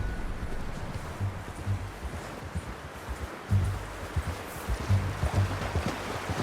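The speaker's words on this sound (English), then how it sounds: "How's that new horse?" Horse hooves clip-clop in Red Dead Redemption 2 in an uneven plodding rhythm, fairly near, over soft rustling of brush and a light breeze. No speech.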